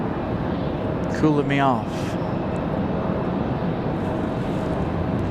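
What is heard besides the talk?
JetBlue airliner jet engine taxiing at Raleigh Durham airport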